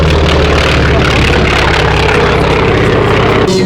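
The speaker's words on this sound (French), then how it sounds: "Il est équipé d'un moteur de 800 chevaux" The 800-horsepower engine of a T-28 aircraft runs at an air show, a loud, low, throbbing drone that holds steady throughout while a commentator talks over it.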